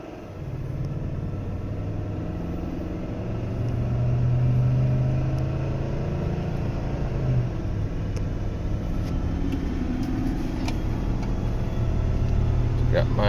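Dodge Magnum RT Hemi V8 engine fitted with a K&N cold air intake, idling and then revving in first gear during a dyno test, a steady close low rumble that swells and holds.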